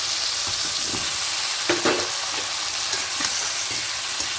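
Potato and eggplant pieces fry in a pan of oil for a light fish curry with tomato, a steady close sizzle with a few scraping stirs and brief clinks, alone without talk.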